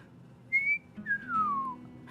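A person whistles two sustained notes, a short steady tone followed by a longer one gliding downward, heard alone and fairly clear over a quiet room background.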